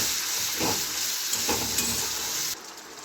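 Ground tomato paste fries in a pan for Bengali dhoka curry. A dense, close sizzle and hiss runs throughout, with a couple of soft stirring scrapes, then drops slightly quieter near the end.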